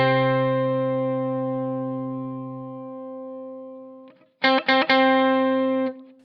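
An electric guitar through a Boss OC-5 octave pedal: a sustained chord decays with its low octave fading out, then goes silent, followed by a few choppy stuttering bursts and another held chord that cuts off abruptly.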